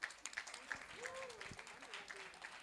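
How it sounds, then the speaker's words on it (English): Audience applause at a book launch for a second book, steady clapping from a crowd throughout, fairly faint and continuous with some voices and murmur mixed in. "Big round of applause for Karan and Meera."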